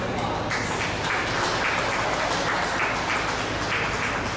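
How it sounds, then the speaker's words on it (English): Audience applause at a 4-H/FFA rabbit show, a dense, steady wash of many hands clapping together, loud and sustained throughout without a break. "Let's give these kids a round of applause."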